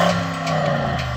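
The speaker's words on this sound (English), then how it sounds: "the Mark 3, rev up your engine." A Porsche Cayenne Turbo Mark 3 engine revving, heard as a steady, close droning engine note that holds throughout without any talk.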